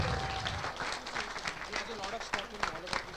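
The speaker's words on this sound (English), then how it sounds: "we should really appreciate that and give a big round of applause for George." Audience at a Mozilla India community meetup breaks into applause, a steady patter of many hands clapping at moderate distance, fairly faint, with some voices mixed in.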